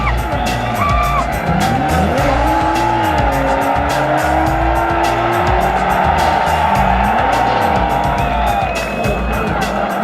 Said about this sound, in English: The drifting here at GT Live is intense